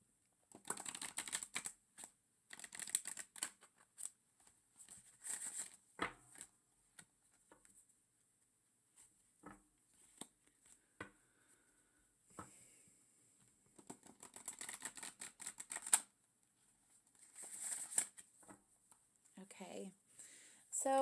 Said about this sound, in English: So we're going to go ahead and give these a good shuffle here.